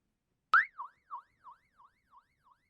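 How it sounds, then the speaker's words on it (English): A BaoFeng GM-15 Pro GMRS handheld radio sounds its siren: one sharp onset, then a rising-falling warble that repeats about six times and fades steadily, heard alone. "will give you the siren."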